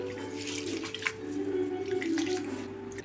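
Rice is washed by hand in water in a kitchen, with a steady swishing and sloshing close by and faint drips, while a voice talks softly underneath.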